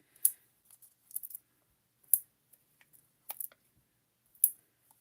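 Small scissors fussy-cut around a shape in craft card, with a few sharp, isolated snips and light clicks spaced apart in an otherwise quiet room.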